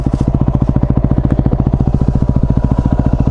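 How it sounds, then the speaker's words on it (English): A Yamaha WR250R dual-sport motorcycle engine thumps steadily and loudly up close with a fast, even single-cylinder pulse while riding off road, with no voices. "I got the little WR250R, basically because it's road registerable, so it's a road bike"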